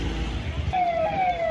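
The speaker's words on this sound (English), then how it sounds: "that's just another police car making sure it's clear" A police car siren sounds along a road in Ajmer, Rajasthan, clearing the way ahead of a motorcade: a single rising wail over the low rumble of street traffic, fairly close.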